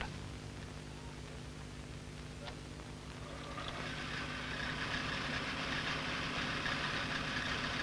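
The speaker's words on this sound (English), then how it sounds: "Start the engine on the stand." Puch motorcycle engine on its stand, quiet at first, then starting up and settling into a steady mid-pitched idle with a continuous chugging rumble, close and alone.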